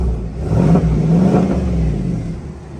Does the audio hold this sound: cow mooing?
no